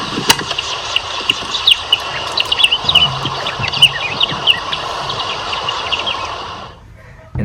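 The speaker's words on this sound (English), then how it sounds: "this is the mustache grass warbler we've been hearing calling in the previous video" Bird calls ring out repeatedly over a steady background hiss, a moustached grass warbler's short notes recurring throughout in Uganda before the sound cuts off near the end.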